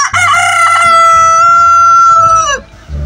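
A loud, close rooster crow, one long drawn-out call that rises then holds before cutting off, followed by a brief low rustle.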